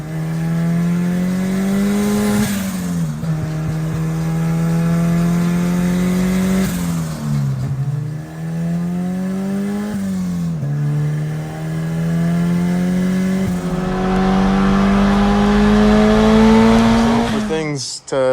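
A 1980 turbocharged Honda Civic driving on the street, its engine droning loudly and rising through repeated gear pulls with brief dips between shifts, up close and steady for the whole stretch.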